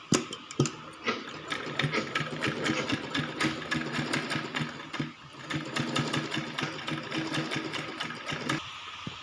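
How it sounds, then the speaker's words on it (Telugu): A sewing machine stitches a one-year-old baby's umbrella frock. Its rapid, even needle chatter runs almost nonstop at moderate volume, with a brief slowdown midway and no talking. "ఈ విధంగా స్టిచ్ చేసుకోవాలి."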